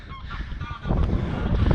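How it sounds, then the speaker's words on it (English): Geese honk outdoors over a winter Dutch landscape seen from a lookout tower, a few calls rising over wind-like rumble that grows louder in the second half. "Those are geese."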